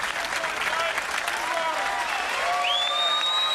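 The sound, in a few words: crowd cheering for bowler Norm Duke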